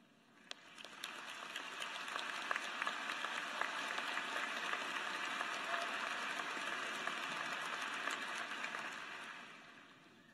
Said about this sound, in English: We thank you for your applause